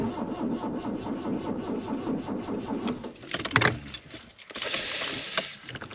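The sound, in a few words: camper van engine starting on a cold morning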